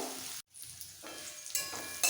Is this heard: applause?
no